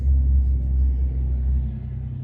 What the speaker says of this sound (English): What I don't like is that sound of transport trucks.